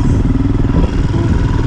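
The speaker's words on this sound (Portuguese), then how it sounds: "Tô dando de moto" Royal Enfield Himalayan motorcycle cruising on a road, its single-cylinder engine giving a steady, loud low-pitched drone with continuous rumble and no talk.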